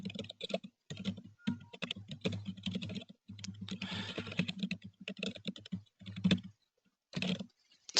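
Steady bursts of fingers typing on a computer keyboard while a patient portal message is written, close and clear, with brief pauses between runs of keystrokes and no talk.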